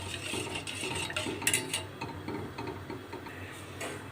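Metal spoon stirring semolina into warm milk in a pot for a mango custard, soft steady scraping and clinking ticks against the pot, close and fairly quiet, with no talking.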